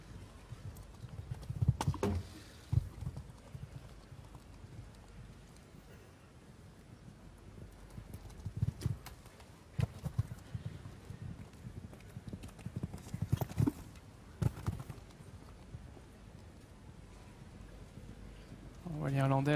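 A 10-year-old stallion at the Aachen show jumping Grand Prix moves with muffled hoof thuds and occasional louder landing beats, heard at a distance over wind and arena noise, with a commentator speaking.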